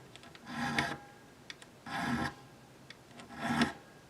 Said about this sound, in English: I got my StewMac fret file